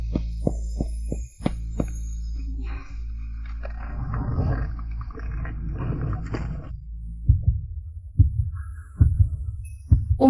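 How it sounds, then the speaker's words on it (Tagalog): A heartbeat sound effect thumps in slow, regular low beats near and loud, later fading under a murky swell of ambient tones before the pulses return. "Bakit ganito ang tibok ng puso ko?"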